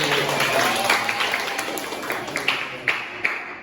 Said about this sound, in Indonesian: Tepuk tangan karena semuanya betul.